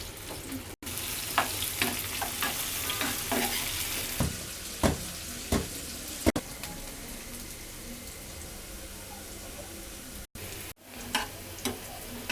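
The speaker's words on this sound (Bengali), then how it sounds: "ফ্রাই প্যানে যে ভাজা তেলটা ছিল সেই তেলের মধ্যেই 1/2 কাপ পেঁয়াজ কুচি দিয়ে দিচ্ছি" Half a cup of chopped onion frying in leftover hot oil in a frying pan, a steady close sizzle broken by intermittent clicks and scrapes of stirring, with no talking.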